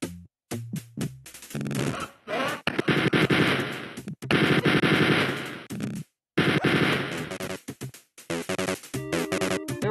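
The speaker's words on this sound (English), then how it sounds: "Let me switch to the chain gun." Chain gun firing in the video game Spear of Destiny: loud, rapid automatic bursts broken by short silent gaps, with no talking over the gunfire.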